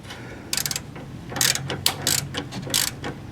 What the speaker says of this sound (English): Next we're gonna tighten down this castle nut and put our cotter pin on